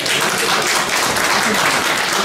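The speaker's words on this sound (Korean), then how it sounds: "회기가 전달될 때 여러분 큰 박수 부탁드리겠습니다." Large crowd applauding at an inauguration ceremony of a regional local-government association in South Korea, a dense, steady wash of clapping filling the whole moment without pause.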